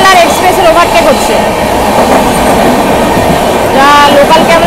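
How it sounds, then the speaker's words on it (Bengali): From inside the Digha to Puri Samudrokanya Express, a loud, continuous rumble and rattle of rail cars fills the carriage as it overtakes a local train, with voices talking over the din. "দেখো লোকাল আর এক্সপ্রেসের ওভারটেক হচ্ছে"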